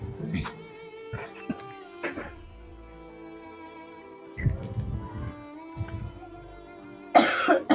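A man with a stomach ache coughs in a rustic Hindi comedy skit, giving several rough, broadband bursts spread through the clip. The loudest cluster comes near the end, with some voice sounds in between.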